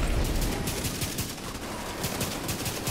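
Rapid sustained gunfire from a hard-hitting exotic gun in the video game The Division 2, a dense crackling fusillade of shots that runs continuously and loud throughout, with no talk.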